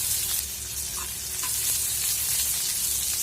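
A chopped medium onion fries in oil with cumin and dried chillies, giving a steady, loud, close sizzle that runs unbroken with no talking.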